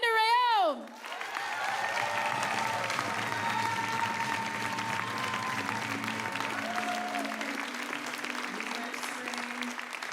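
Audience applause at the 2023 Summer Solstice Indigenous Music Awards follows a brief rising musical tone. Loud, sustained clapping from a large crowd fills the rest of the stretch and tapers slightly near the end.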